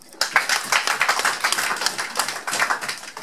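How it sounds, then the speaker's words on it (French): Meeting audience in Paris applauding, a dense burst of many hands clapping that starts abruptly and continues steadily, fairly close and loud. "nous avons élu Mireille Sabou, qu'on va applaudir."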